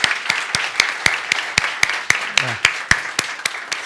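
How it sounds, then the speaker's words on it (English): Applause at a Startup Grind panel event at Almedalen: steady, evenly spaced claps close by, with a brief voice partway through. "We give Ali a warm applause"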